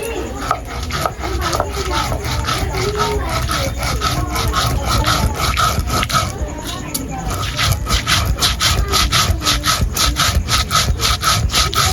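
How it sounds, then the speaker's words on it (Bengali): Soaked rice is ground on a grinding stone with a steady back-and-forth rasping scrape, loud and close, repeating in quick regular strokes throughout. "আমি চাল আগে থেকে ভিজিয়ে নিয়েছি আর এখন পিষে নিব"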